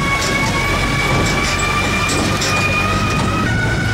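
A tour tram rolls through the NASA Space Center grounds with a loud, steady rumble and a sustained mechanical whine over constant road noise.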